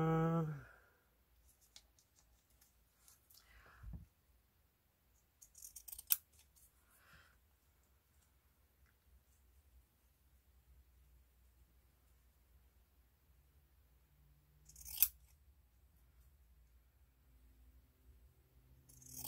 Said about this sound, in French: Les ciseaux cranteurs.